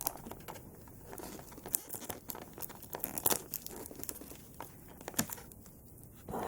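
Tape peeling away from the plastic and cardboard packaging of a Superman action figure, a series of close crinkling, tearing crackles in uneven bursts, with no talking.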